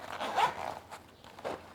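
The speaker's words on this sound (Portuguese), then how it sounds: "Vou abrir aqui o meu zíper" A zipper on a handmade Kipling-style lunch bag is pulled open in a couple of short, scratchy rasps, close and fairly quiet, with no voices.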